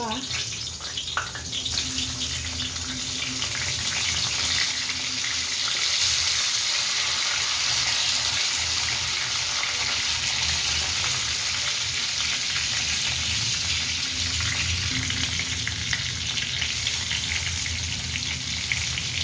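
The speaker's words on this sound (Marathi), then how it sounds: "हे तेल आता गरम झाले. अशा प्रकारे सगळे वांगी ठेवून द्यायची." Stuffed brinjals (eggplants) fry in hot oil with a dense, steady, close sizzle that carries without pause from start to finish.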